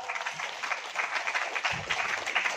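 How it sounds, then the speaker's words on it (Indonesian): Village audience applauding their village head during a live religious music and sermon event in Banyuwangi, a fairly quiet, fluttering patter of many hands with a brief low thump near the end. "tepuk tangan untuk Pak Lurah selalu nggih"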